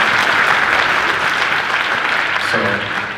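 Audience applause fills a school band's fall wind ensemble concert, a steady dense wash of many hands clapping close by that tapers slightly toward the end.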